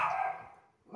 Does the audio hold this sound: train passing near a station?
no